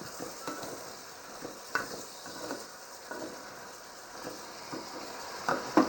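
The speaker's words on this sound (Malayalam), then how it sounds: "അതും കൂടെ ചേർത്ത് നമുക്ക് ഒന്നും കൂടി വഴറ്റിയെടുക്കാം" Tomato, onion and other egg curry ingredients sautéing in a pan, a soft low sizzle broken by scattered scrapes and clinks of a spoon stirring, ending with a few louder knocks.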